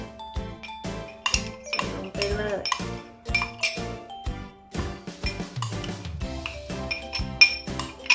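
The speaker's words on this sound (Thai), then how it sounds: "ตีให้เข้ากันนะคะ ค่ะก็คนให้เข้ากันเลยนะคะ" A mixture beaten and stirred in a bowl, a rapid run of clinking, tinkling strikes against the bowl in a fast, uneven rhythm, close and continuous throughout.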